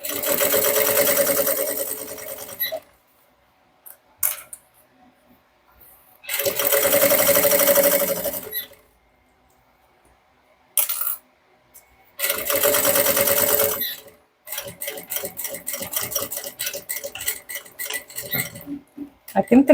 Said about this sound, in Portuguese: E vou costurar aqui bem na pontinha dele.